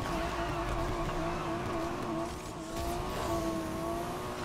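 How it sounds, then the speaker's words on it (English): Car engine in the racing video game Need for Speed Heat, a steady loud drone with a sustained tone that rises and falls slightly, heard alone and continuous throughout. "Let's rev this engine and get it ready to go."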